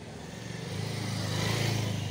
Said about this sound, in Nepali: मान्छेहरू बाइकमा हिँडिरहेछन् गाइज